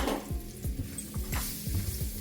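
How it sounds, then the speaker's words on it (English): Diced onions sautéing in a pan for liver and gravy, a soft steady sizzle with light scraping stirs repeating every half second or so, close and fairly quiet. "In that same pan, I'm going to add my diced onions and let those saute for a while."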